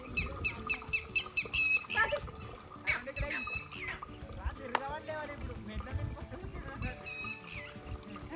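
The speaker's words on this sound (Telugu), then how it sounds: "అసలు ఈ పిట్ట ఎందుకు అరుస్తుందో అర్థమే అవుతలేదు." On a farm on a rainy day, a bird calls loudly in repeated rapid, harsh squawking bursts, close by, while people talk over and between the calls.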